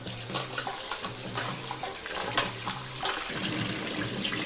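Raw white rice is washed in water, giving continuous splashing and sloshing with bursts of swishing and a few sharper clinks, moderately close and without speech.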